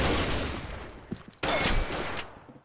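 Bursts of rapid gunfire from the video game Combat Arms rattle loudly, a long volley, a brief gap, then another heavy barrage, with no voices present.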